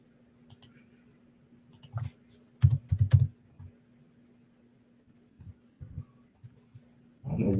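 Irregular clusters of keyboard key clicks from a computer keyboard, some quick bursts of several strokes and scattered single taps, close and moderately quiet over a steady low hum, ending in a louder thump.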